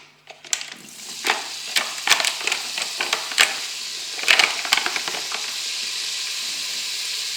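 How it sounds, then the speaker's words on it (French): Lardons fry in olive oil in a Cookeo multicooker, a close sizzle punctuated by sharp pops and spatula scrapes early on, settling into a steady hiss, with no voices. "je vais faire revenir dans de l'huile d'olive mes lardons"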